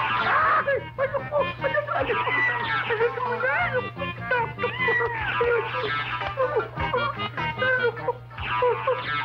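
A cat meows repeatedly and loudly in a Filipino comedy film scene, with drawn-out, wavering cries over a steady low hum and shouting voices around it.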